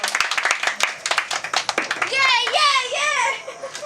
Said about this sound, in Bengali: জোরে হাততালি হয়ে যাবে খুব সুন্দর